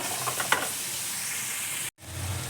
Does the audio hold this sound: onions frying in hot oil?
yes